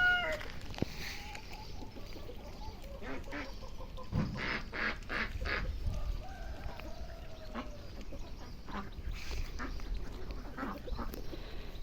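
Poultry calls fill the scene, with several loud rooster crows and squawks overlapping amid steady farmyard clucking and honking, close and continuous.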